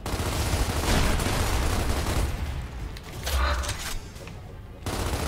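Gears of War video game gunfire forms a dense, continuous rattle of rapid shots with heavy booms. It dips briefly, then resumes loudly near the end.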